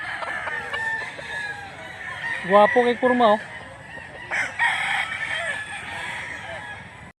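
Several brief rooster crows and clucks mid-clip over a noisy outdoor background, with someone speaking briefly.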